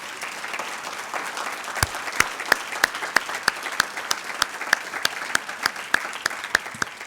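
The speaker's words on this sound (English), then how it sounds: "One more big round of applause for all of our CASNR graduates." A graduation ceremony audience applauds the department heads: a steady bed of crowd clapping with one nearby pair of hands clapping in a sharp, even rhythm on top.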